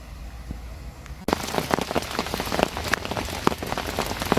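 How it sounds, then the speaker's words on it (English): Steady rain pattering on the surface of an estate lake during a carp fishing session, starting abruptly after a quiet moment and continuing as dense, close drumming with scattered louder drops. "the rain has well and truly arrived now"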